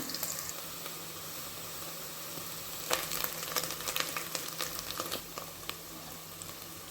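Ginger paste fries in a pan with green chillies and onions, giving a moderate, fairly quiet sizzle with scattered crackles and stirring taps in the middle, without talk.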